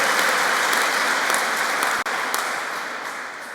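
Fervent applause from the audience at a public discussion in Oban, loud and continuous with a brief dip near the middle before tapering slightly.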